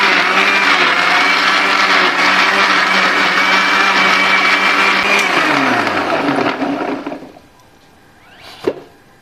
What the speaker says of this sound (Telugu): చక్కగా ఈ మిక్సీ జార్లను వేసి మిక్సీ పట్టేయడమేనండి